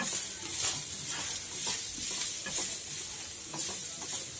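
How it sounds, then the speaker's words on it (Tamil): Chicken and mint sauté in a hot pan, a steady bright sizzle with soft scraping stirs recurring about once a second, fairly close, with no talk. "கொஞ்சம் நல்லா வதக்கணும்"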